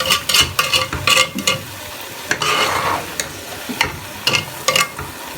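Rice cooked with jaggery is stirred in a hot pot, with loud nearby scraping strokes of the spoon over a continuous oily sizzle and occasional clinks against the pot.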